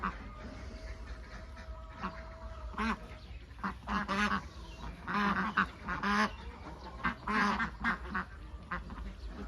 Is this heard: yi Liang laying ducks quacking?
yes